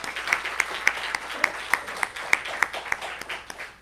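Congregation applause during a church service, a scattered, fairly faint patter of hands with distinct individual claps in an irregular rhythm, heard at a distance.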